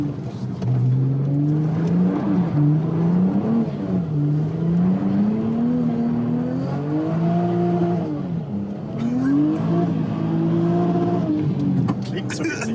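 A red Audi RS4 B5 revs high and steady on snow as it slides, its engine note rising and falling in long sweeps, close and loud under talk from occupants.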